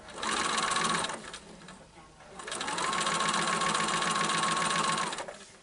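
Sewing machine stitching a curved seam on a quilt block, running steadily in two bursts with a brief pause between, close and loud with a whirring motor hum.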